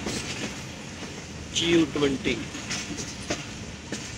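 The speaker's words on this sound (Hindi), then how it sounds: "ये है दोस्तों 102 डाउन सुपरफास्ट एक्सप्रेस" A Jaffar Express superfast train on Pakistan Railway rolls past with steady rumbling and clickety-clack wheels, a brief squeal of wheels partway through, while someone talks over it.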